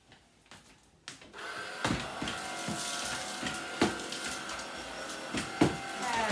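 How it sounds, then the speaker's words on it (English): A household vacuum cleaner drones steadily across a kitchen floor, sucking up spilled sprinkles, with sharp clicks and rattles as debris is pulled into the nozzle, loud and close. "let's just vacuum this up."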